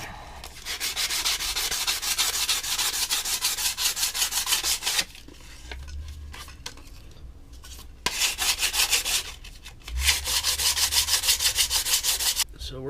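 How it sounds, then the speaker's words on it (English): Wood is sanded by hand with 100 grit sandpaper in rhythmic back-and-forth strokes, close and steady, pausing twice before resuming. "we're going to hit this with some sandpaper"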